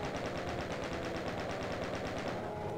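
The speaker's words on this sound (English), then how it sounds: "I could hear something else firing at me." Rapid, evenly spaced bursts of automatic gunfire rattle continuously under a dense background, weapons firing at a steady rhythm in the Doom level Refinery.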